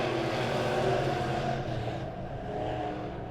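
Midwest Mods race cars in a heat race at Springfield Raceway, their engines roaring steadily as they come off turn four, a loud continuous multi-engine drone with no voices over it.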